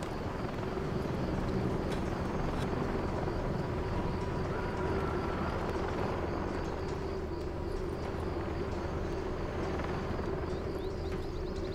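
Enemy helicopters in the Call of Duty Modern Warfare 3 campaign, a steady loud rotor drone with broadband engine roar that persists throughout without pause.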